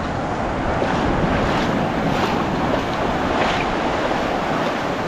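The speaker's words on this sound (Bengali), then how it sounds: "এই দেখো আসছে, ঢেউ আসছে" Steady roar of sea waves breaking and washing up Digha beach, India, loud and continuous, with wind buffeting the microphone and no talking.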